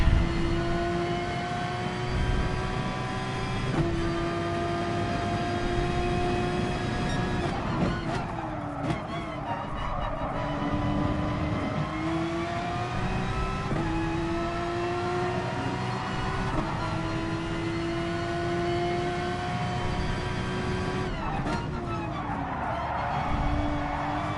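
Video game race cars, a Porsche among them, in close battle: engines rise and fall through gear changes, with tyre squeal and skidding over a continuous near roar, no talk.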